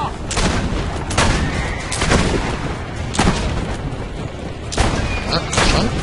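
Gunshots in Assassin's Creed Brotherhood, fired at mounted riders and horses: about six sharp, loud bangs at irregular intervals over a steady game background of battle noise.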